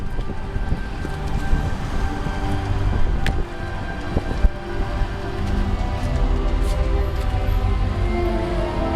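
Wind gusts outdoors on a street in London's Soho, a loud steady rumble buffeting close to the microphone with heavy low noise and brief sharper knocks throughout.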